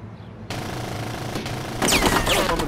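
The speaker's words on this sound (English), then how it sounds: "I'm gonna fucking sit here and get shot at" Machine gun fire from the 2004 video game Full Spectrum Warrior: a sustained burst of rapid, dense gunfire that grows louder and harsher toward the end, with no talking.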